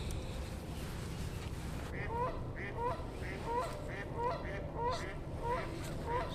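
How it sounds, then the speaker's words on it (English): Waterfowl call repeatedly near a lake while fishing in Jefferson, Wisconsin: a steady string of honking quacks about twice a second, moderately loud over a constant outdoor wash of background noise. "Ducks are so annoying."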